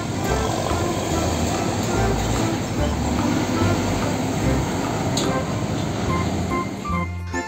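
A toy Thomas train runs with a steady, continuous rumble and faint hiss throughout, fairly close and unbroken, with no talking over it.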